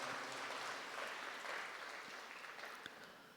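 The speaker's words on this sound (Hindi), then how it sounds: "इनके लिए ताली बजाओ भाई" An audience claps together in a steady wash of applause that slowly fades, heard faint and somewhat distant in a hall.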